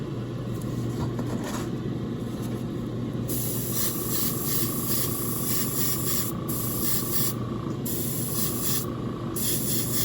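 An airbrush sprays paint onto a miniature figure with a steady, close, continuous hiss, broken by short changes in tone as the trigger is worked, and no voices.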